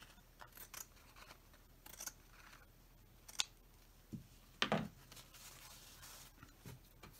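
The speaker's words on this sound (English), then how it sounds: "cut just that off there" Scissors cutting fabric for an all-fabric journal: a few quiet, scattered snips and rustles, faint and close, in an otherwise hushed room.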